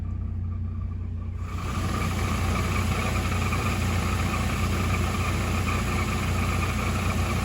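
A Chevy S-10 pickup sits stopped in reverse with the brake held, its transmission giving a steady low drone and whine over the idling engine that swells in after a quiet first second, close and constant with no talking.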